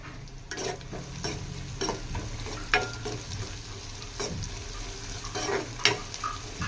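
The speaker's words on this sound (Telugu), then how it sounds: "ఇది బాగా మిక్స్ చేసుకుందాం. ఈ మొత్తం ఫ్రై అయిపోయాయి" Dried red chillies and asafoetida fry in hot oil while a spoon stirs and scrapes the pan, a steady soft sizzle broken by repeated clinks and scrapes, fairly close and quiet.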